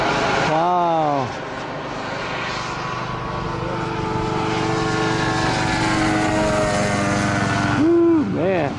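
RC model aircraft fly overhead at the Joe Nall RC aircraft meet, a sustained engine drone with swooping pitch sweeps as planes pass, while spectators talk nearby.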